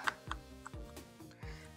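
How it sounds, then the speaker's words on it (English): A battery-operated mini keyboard vacuum cleaner being snapped shut, giving a few soft plastic clicks and light knocks close by, quiet and spaced out, with no voices. "And now I'm gonna close the vacuum."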